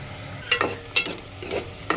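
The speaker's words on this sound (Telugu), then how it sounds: "ఇదిగో చూస్తున్నారు కదా, ఇంకా కొంచెం వేగాలి ఉల్లిపాయలు." Onions frying in a pan for a bean curry, with a soft continuous sizzle under a few quick scraping stirs of a spoon against the pan, close and moderate in level, no voices.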